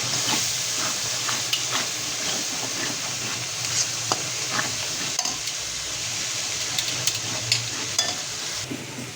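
Water splashed into spice masala frying in hot oil gives a steady, close sizzling hiss that runs the whole time, with occasional stirring scrapes and small pops.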